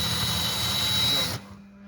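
A power drill whirs loudly in reverse on a low setting, backing out a painted-over cabinet hinge screw, a steady close motor whine that cuts off abruptly near the end.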